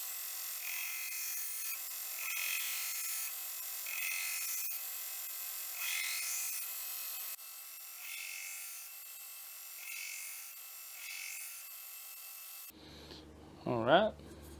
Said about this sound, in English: let's get the file guide on this and let's get the bevels roughed in.